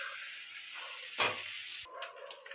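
Crab pieces frying in hot oil, a quiet steady sizzle with a brief clatter of stirring partway through and a soft scrape near the end.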